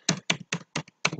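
Typing on a computer keyboard: a quick run of about six crisp key taps, close and clear, with near-silence between strokes.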